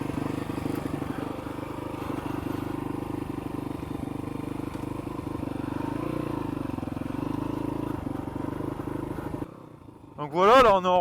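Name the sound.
dirt bike with exhaust baffle riding off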